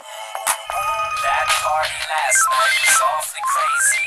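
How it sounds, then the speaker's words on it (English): A rapid sequence of electronic cell phone ringtones plays close and loud, with beeping tone patterns and rising melodic sweeps following one another, and a low buzz underneath. "They are the sounds of our cell phone culture."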